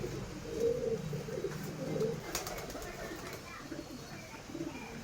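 Girebaaz pigeons coo in low, rounded repeating calls with a steady hum of background noise, while faint voices murmur in the background.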